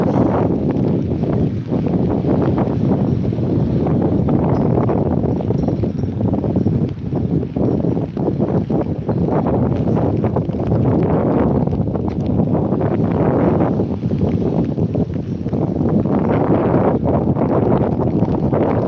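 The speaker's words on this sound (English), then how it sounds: "It's wet. It's windy." Strong wind buffets the microphone at the seaside in Withernsea on a wet, windy day, a continuous loud rumbling roar with gusts rising and falling throughout.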